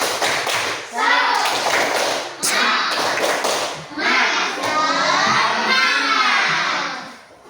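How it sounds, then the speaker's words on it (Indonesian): Fifth-grade class performing a rhythmic clapping chant in unison, bursts of claps and children's voices chanting together in a loud, close classroom. "silakan tepuk semangat bersama-sama. Tepuk semangat."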